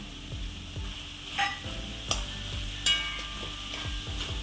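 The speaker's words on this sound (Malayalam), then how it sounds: "ഇനി നമുക്ക് ഇതിലേക്ക് കുറച്ച് കറിവേപ്പിലയും കൂടെ ചേർത്ത് കൊടുക്കാം" Curry leaves dropped into a hot pan with coconut oil for a simple mezhukkupuratti, giving a steady close sizzle broken by a few sharp crackling bursts, with no speech.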